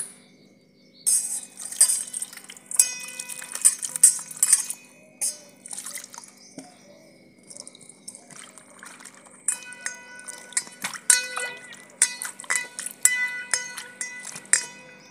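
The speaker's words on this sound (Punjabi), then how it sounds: "ਆਪਾਂ ਇਹਨੂੰ ਧੋ ਲਾਂਗੇ" Cauliflower being washed by hand in water in a village kitchen, with intermittent drips, trickles and splashes plus occasional light clinks of a utensil, close and moderately loud, no talking.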